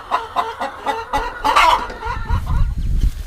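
Meat chickens on a farm cluck in a quick run of close, repeated calls, giving way to a lower, rougher rumble of flock noise toward the end.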